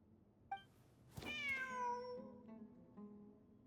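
A cat meows clearly inside the video game Genshin Impact, one long drawn-out call with rising then falling pitch, preceded by a short chirp and followed by fainter trailing mews, with a quiet ambient game background.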